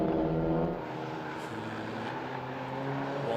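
A touring race car at the Hungaroring understeers through the first corner: an engine drone that is loudest at the start, then eases into a steady, somewhat distant hum.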